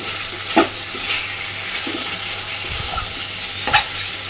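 Mashed pumpkin frying in oil in a pan over a medium flame, a continuous close sizzle with occasional spatula scrapes and stirring knocks, no voices.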